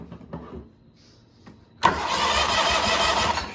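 A big riding mower engine cranks briefly, then catches and runs steadily, loud and close, with no voices over it.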